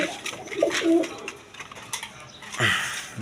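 A pair of Indian Kaldom pigeons, a male and a female, coo in low, soft bursts close by, with faint rustling and brief background noise between calls.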